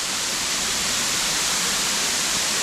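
Water pours steadily from a waterfall into a small cold pool at the base, a dense, loud broadband rush close by with no talk.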